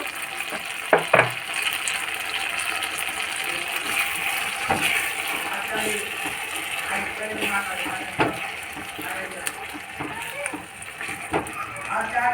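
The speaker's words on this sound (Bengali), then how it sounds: "গ্যাসে একটা কড়াই বসিয়ে অল্প একটু তেল ছিল সেই তেলের মধ্যে দিয়ে দিলাম" Tomatoes fry in a little oil in a wok over a gas flame, giving a steady, loud sizzle with occasional stirring clanks and scrapes throughout.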